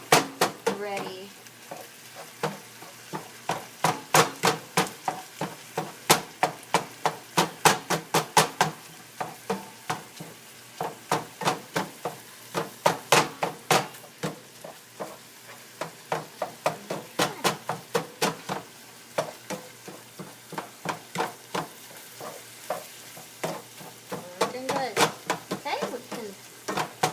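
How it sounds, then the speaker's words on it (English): Extra lean hamburger sizzles and crackles steadily in a pan, with dense popping bursts and occasional stirring scrapes throughout, fairly close and without talk. "You want to cook this until all the liquid boils off. Extra lean hamburger boils down where you don't even have to drain it"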